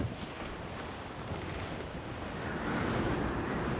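Sailing ship in Assassin's Creed 4: Black Flag heeling and rolling through ocean waves, a steady broadband wash of water and wind that swells slightly louder toward the end, with no voices.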